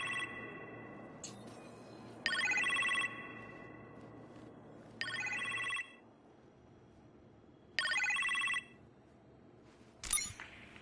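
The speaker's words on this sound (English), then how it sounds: "appear to have a phone call in the kitchen" A telephone rings in a kitchen in the Iron Man VR video game, four separate electronic ring bursts spaced a few seconds apart over a low background hum, fairly faint, with no talking.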